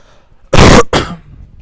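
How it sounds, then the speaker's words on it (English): A sharp, loud cough close by, two harsh bursts in quick succession, with no talking. "Sorry about the cough, guys."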